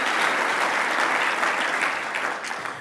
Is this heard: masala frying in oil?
no